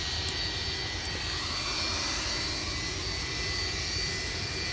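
Jet aircraft engine roaring at Manchester Airport, a steady, broad, loud rumble with a high whine layered on top, continuous throughout with no talking.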